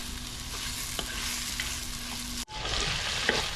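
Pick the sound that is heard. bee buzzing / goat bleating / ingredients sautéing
ingredients sautéing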